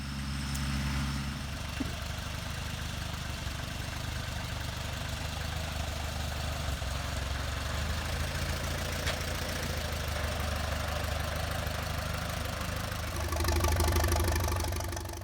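A small tractor engine idles steadily with a low, continuous chugging rumble, revving slightly louder near the end, with no talking.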